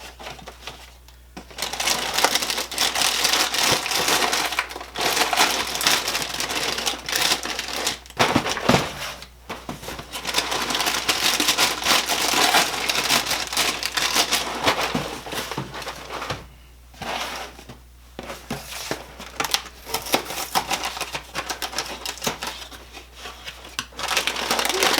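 Chex corn, rice and wheat cereal pieces poured into a plastic baggie, a dense rattling, crinkling rush of dry pieces and plastic, close and loud, in several long pours separated by short pauses.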